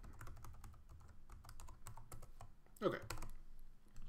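Keys clack on a computer keyboard during a coding session, a quiet irregular patter of taps, with a brief spoken word and a short whooshing sweep near the end.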